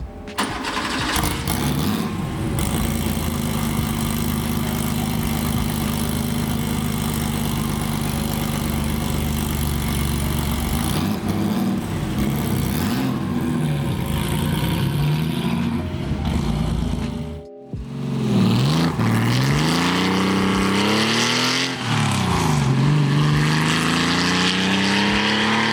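Porsche 911 3.2 flat-six fitted with a Bisimoto exhaust, loud and close, a sustained raspy drone that rises and falls with throttle, dropping out briefly before revving back up with sweeping pitch changes.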